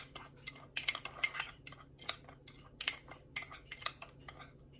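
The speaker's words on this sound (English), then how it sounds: "this we're going to stir to make a cinnamon sugar to go on top" A spoon stirs cinnamon sugar in a bowl for pumpkin pie twists, giving quiet, irregular clinks and scrapes in short bursts. The sound is close and fairly soft, with no talking.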